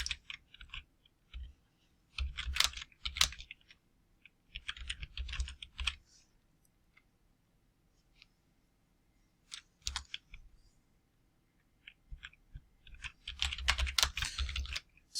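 Typing on a computer keyboard comes in several bursts of rapid clicking keystrokes separated by quiet pauses, close and fairly soft, with no voices.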